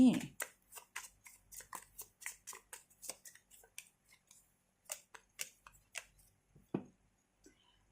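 Tarot oracle cards are shuffled in quick, crisp riffling snaps, a steady run of close, soft taps and flicks that slows and thins toward the end.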